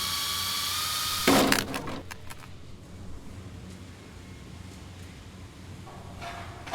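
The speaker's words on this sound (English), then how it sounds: "begin fastening with self-drilling screws" A power drill whines briefly, then a short burst of driving self-drilling screws grinds and stops, followed by quieter handling noises and a faint second whir.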